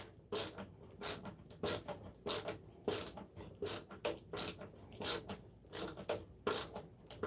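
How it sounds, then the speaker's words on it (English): Repeated ratcheting clicks in a steady rhythm as a ratchet turns to cut threads, with about a dozen short bursts of clicking, close up and fairly quiet, and no talking. "So we're going to cut the threads on this. And we'll use a ratchet to do it."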